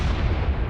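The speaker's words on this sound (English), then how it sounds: "I dropped an arty on them." Artillery strike explosions in a multiplayer combat video game, a dense continuous rumble of heavy booming blasts over about a second, loud and low with no voices.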